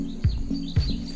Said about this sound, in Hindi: इस वक्त सुबह सुबह सिर्फ चिड़ियों की आवाज़ आएगी